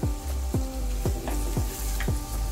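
Tomatoes softened and sautéed over medium heat with chili powder, turmeric, dalcha masala, asafoetida and jaggery for veg dalcha, a steady sizzle broken by regular spatula scrapes and knocks roughly every half second.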